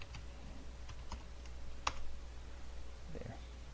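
Rapid keystrokes on a computer keyboard while entering a password during a Kali Linux virtual machine setup, soft close clicks in short irregular bursts over a steady low hum, with no talking.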